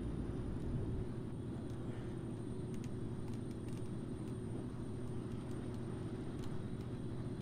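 Flight Simulator game audio gives a steady, low, droning aircraft engine hum as the power is throttled back during bush flying in mountains. The engine drone holds constant throughout, with faint ticks now and then over it.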